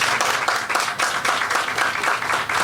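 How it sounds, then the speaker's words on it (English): An audience applauds for police at a Safe City Police Initiative launch in San Fernando, Trinidad, with steady, dense clapping close up throughout and no talk. "Can we give them a round of applause?"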